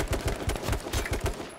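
Automatic gunfire in the game H1Z1, a quick string of loud, evenly spaced shots at close range, continuing without pause through the short burst.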